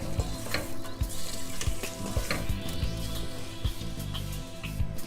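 Onion softening in olive oil in a hot pan for a roasted pepper soup, a steady close sizzle and crackle with occasional stirring clicks and scrapes throughout, no talking.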